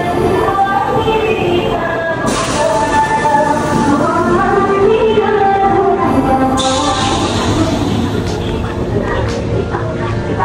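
Rumbling inside a Vistadome coach on the Vizag to Araku train while passengers board, with a steady mechanical drone and people murmuring and talking around.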